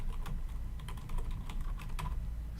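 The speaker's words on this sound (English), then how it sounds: "Let me type in" Fingers type on a computer keyboard nearby, a quick irregular patter of crisp key clicks over a low background hum, with no talking.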